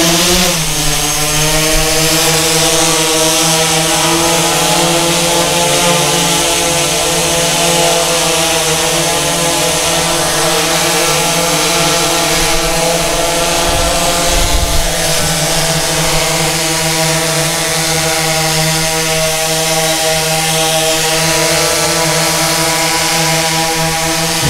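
A DJI S1000 octocopter drone's motors spool up to full throttle for takeoff: a loud, steady, multi-toned electric whine that rises in pitch over the first seconds, then holds a sustained buzzing drone.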